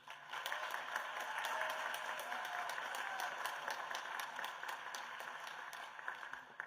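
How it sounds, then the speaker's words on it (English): At a swearing-in ceremony, an audience claps steadily, with dense, even applause that holds for several seconds before slowly thinning out. "Another huge round of applause for our amazing students"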